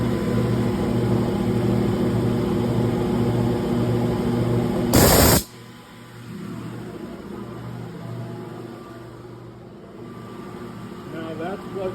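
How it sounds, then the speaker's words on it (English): An air compressor runs with a steady machine hum and a low rhythmic pulsing as pressure builds past 80 psi in a workshop, interrupted by a brief loud burst of hiss midway, then continues more quietly. "The air compressor is coming up with 80 psi and climbing."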